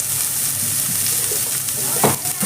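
Onions fry in a pan for a green chili and pea curry, giving a steady close sizzle with a brief clink of a utensil near the end.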